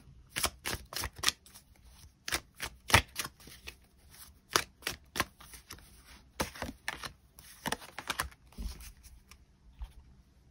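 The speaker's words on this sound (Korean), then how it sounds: "그럼 3번 분들 추가 카드로 이번 1월을 더 행복하게 보내기 위한 조언의 카드 무엇이 있을지 추가 카드 뽑아보도록 하겠습니다" Tarot cards shuffled and drawn at close range, a run of crisp irregular riffles, snaps and taps scattered across the stretch, quiet room with no talking.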